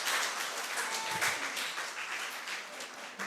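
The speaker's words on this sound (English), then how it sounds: "Give yourselves another round of applause." A moderately distant round of applause from students at a national reading competition, steady dense clapping throughout with a brief low thump near the middle.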